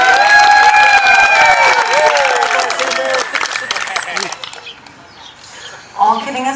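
Audience at an evening event applauding and cheering for the bartenders, a loud burst of clapping and whoops that fades over a few seconds before a voice begins talking.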